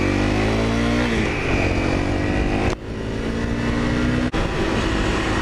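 A Honda CRF250L dual sport motorcycle being ridden: its engine note climbs loud and close under acceleration, broken by two quick gear shifts before pulling again.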